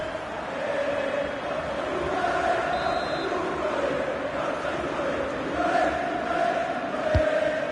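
Stadium crowd noise in a FIFA football match featuring Juventus, a continuous broad roar with swelling murmurs and chants, steady and fairly loud with no clear single voice.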